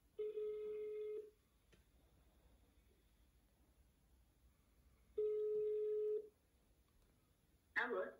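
A telephone rings back twice while a call to a mother is placed, giving two long steady tones about four seconds apart in a quiet room, followed by a brief voice as the call connects.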